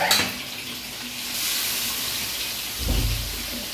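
Pieces of chicken, squeezed but still wet, dropped into hot oil: a loud, steady hissing sizzle swells in partway through and surges again near the end with a burst of bubbling.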